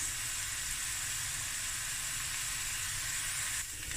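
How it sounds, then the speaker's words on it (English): Steady sizzling hiss of food frying in a pan, continuous and fairly quiet, with no voices. "Let this fry for a few minutes."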